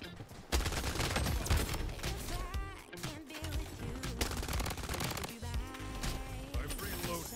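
Rapid automatic gunfire from the Bloodstrike video game, with dense bursts and rattling volleys running almost continuously and loudly over a busy game soundtrack, with brief gaps between strings of shots.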